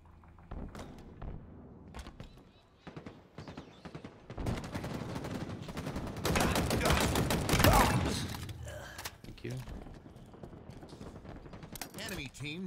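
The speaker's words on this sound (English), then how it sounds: "He's going down by the shotgun now." Shotgun blasts and other weapons fire in a Halo Infinite ranked Slayer match, a dense fusillade of sharp booming shots that swells loudest in the middle and continues in scattered bursts toward the end.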